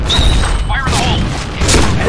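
A grenade goes off in the shooter game Point Blank with heavy, close booms and rumbling bursts, mixed with game voice callouts over the din.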